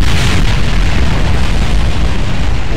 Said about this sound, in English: I observed that the side of the thing has initiated the explosion.